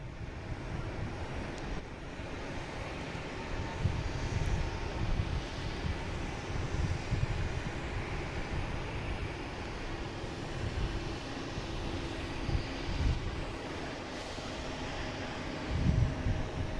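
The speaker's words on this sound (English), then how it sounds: "we got Swiss Wanderlust taking off, heading back to Zurich" A Swiss airliner taking off from Boston Logan, bound for Zurich, heard as a distant, steady low jet rumble mixed with wind noise, with no speech.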